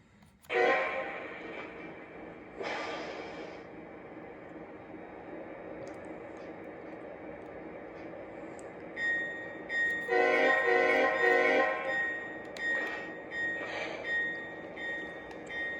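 A Lionel model train locomotive's small motor hums quietly and steadily, with a few short bursts of higher whirring and clicking over a low background.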